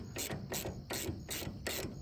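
A ratchet wrench clicks in repeated bursts, roughly four strokes, while a bolt is backed off an outdoor wood boiler part; close and steady, with no talking.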